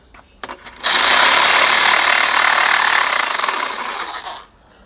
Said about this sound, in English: So I think it's just take the sawzall to it.